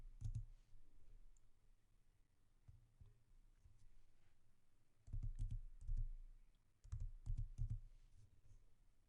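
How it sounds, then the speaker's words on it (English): Computer mouse clicks and keyboard typing in Silhouette Studio design software: a few isolated clicks, then clustered bursts of crisp keystrokes, close and moderately quiet with no talking. "You're going to click on the unlock, and then on your width, you're going to type the measurements that you had over there."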